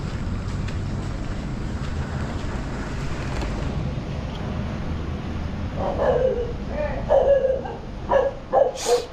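A dog barks several times in short yelping bursts near the end, moderately close, over a steady background hum at a rural home where a delivery has just arrived.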